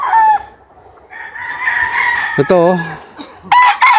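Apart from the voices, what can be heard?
chickens and roosters crowing and clucking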